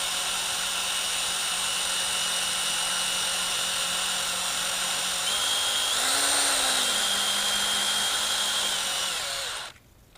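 A drill bit grinds steadily into a broken exhaust bolt on a 1976 Honda Elsinore MR175, a continuous close, loud whine with a brief pitch rise midway before the motor cuts off near the end.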